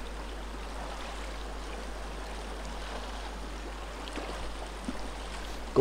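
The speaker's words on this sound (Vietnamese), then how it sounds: "phải lội qua cái suối này để đi sang bên kia" A mountain stream in flood season that has to be waded across, its steady broadband rushing and gurgling water filling the whole stretch at moderate, even loudness, with no voices.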